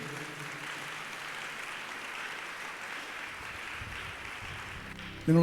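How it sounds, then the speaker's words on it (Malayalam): A congregation at a worship service in Thiruvananthapuram applauds in a steady, dense wash of clapping that holds evenly for several seconds at moderate distance, ending in a sudden louder burst. "ഒരു നല്ല കൈയടി കൊടുക്കാം."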